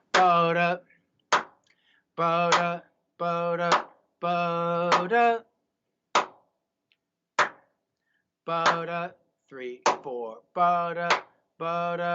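Sharp hand claps beat out a rhythm of seven-triplet groupings, cutting in between a man's rhythmic spoken syllables that vocally imitate the pattern, with brief silent gaps between phrases.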